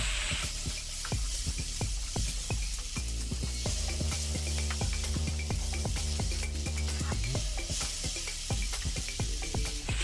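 Tomatoes frying in a pan with salt and turmeric for butter chicken masala, a steady loud sizzle with scattered clicks and scrapes of stirring running throughout, no speech.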